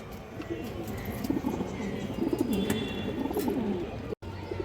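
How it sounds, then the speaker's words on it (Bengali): A female Muslodom pigeon cooing, soft repeated throaty coos that rise and fall over a steady background murmur, fairly close, with a brief dropout near the end. "খুব সুন্দর একটা মাদি কৌতর মুসলদম"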